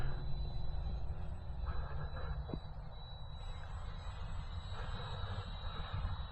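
Eflite Viper 64mm EDF RC jet flying on its maiden flight, a distant ducted-fan whine with a high steady tone and faint rushing noise, swelling and easing slightly as it passes.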